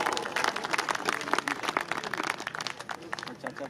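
An audience at a gurukul function in Meerut gives a loud welcoming round of applause for a guest, steady dense clapping from a crowd that fades slightly toward the end, with some voices mixed in.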